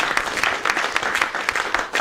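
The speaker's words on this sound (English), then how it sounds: "give a round of applause for Destiny and everybody else who showed up." Applause from the audience at a university debate event at the University of Tennessee, Knoxville: a short burst of moderately sized clapping with distinct individual claps, fairly close, lasting around two seconds.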